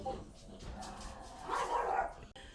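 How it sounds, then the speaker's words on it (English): Several dogs bark and yip, faint and muffled in the background, with a brief louder burst partway through, while people talk. "we had to take a brief pause because the doggies were going crazy"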